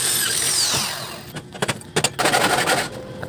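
A power drill boring holes in steel angle bar for a folding table, first a steady whirring run, then a stretch of choppy bursts and grinding bites as the bit works, close up and loud.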